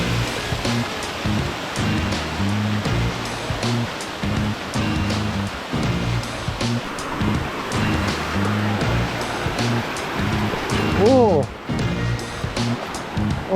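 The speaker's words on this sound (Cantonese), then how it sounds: "見到前邊一浸浸嘅小瀑布啊" Ping Nam Stream in Hong Kong runs over a series of small waterfalls, making a continuous broad rush of water throughout, with a voice and a rhythmic background sound over it.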